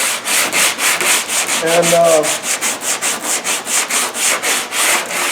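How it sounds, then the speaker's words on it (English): A sanding block loaded with 80 grit rasps back and forth across a Cutlass car body panel, a loud, close stroke-by-stroke rhythm of roughly four passes a second, with a brief voice partway through. "See how I used this block with 80 grit"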